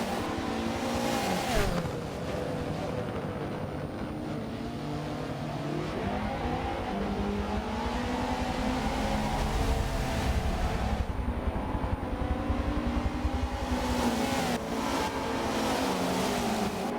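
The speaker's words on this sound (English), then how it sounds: "It's good fun watching those cars go down that downhill." Race cars in the Michelin Pilot Challenge at Laguna Seca roar downhill through the corkscrew, a steady, loud engine drone with shifting pitch as several cars pass, no voices.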